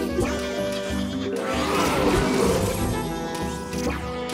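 A cartoonish sheep bleats loudly and continuously over busy game music in Plants vs. Zombies 2, the wavering bleat filling the whole stretch.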